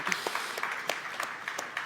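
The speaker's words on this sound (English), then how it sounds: "Yeah, definitely a round of applause." A conference audience gives a round of applause, a fairly faint, distant patter of scattered clapping that lasts under two seconds, with no talk over it.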